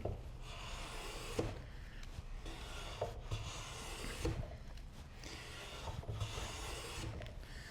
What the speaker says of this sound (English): Now when I look at that maple, it appears to me that I want to be planing in this direction.